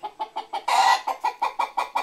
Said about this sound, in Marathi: खाली कोंबडी बसली वर कोंबडा बसला.